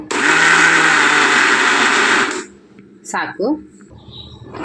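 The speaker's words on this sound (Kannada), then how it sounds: "ಸ್ವಲ್ಪ 1-2 ರೌಂಡು ತಿರುಗಿಸಿದರೆ ಸಾಕು" A kitchen mixer grinder whirs loudly for a short burst while grinding grated coconut for a tondekai palya. It stops abruptly after about two seconds, and a voice follows.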